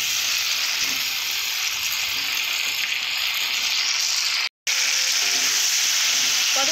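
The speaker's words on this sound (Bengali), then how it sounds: "আলুটাকে ভালো করে ভেজে নেব।" Potato pieces frying in a pan with mustard-based curry spices, a loud, constant close sizzle and hiss with light stirring, broken by one very brief dropout near the end, no talking.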